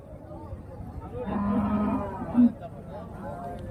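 At a busy cow market in Santhipuram, a cow lets out a low, drawn-out moo followed by a shorter, louder call, with faint crowd chatter in the background.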